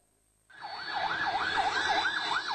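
An ambulance siren on an emergency run from Thrissur to Thiruvananthapuram starts abruptly and then holds a steady, rapidly rising and falling wail at moderate loudness, with faint road noise beneath and no voices.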